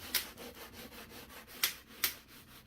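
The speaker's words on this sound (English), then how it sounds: "up the grease in this oven with the scrub pad" Scrub pad rubbing over greasy oven surfaces with Dawn dish soap, a steady close scraping rhythm of repeated strokes, broken by a few sharp ticks of a metal bracelet tapping.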